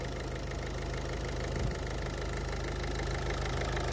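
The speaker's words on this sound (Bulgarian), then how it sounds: "Виждате, моторчето мърка." A car engine idles steadily at close range, a low even rumble with a faint rhythmic knock running through it, no voices.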